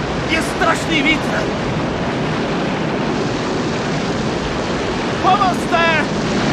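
A storm on a lake, with strong wind and waves roaring steadily and loudly throughout, while frightened voices shout over the din.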